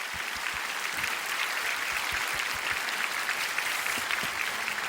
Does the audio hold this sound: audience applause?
yes